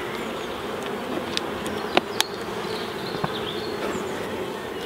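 Honeybees drone steadily in a UK beekeeper's hive during work on nucleus boxes, a close, continuous buzz with a few louder individual bees passing near.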